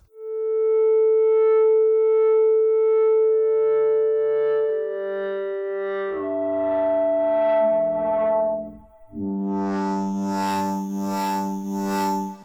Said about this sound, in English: then some vinyl distortion, which kind of adds in that lower grit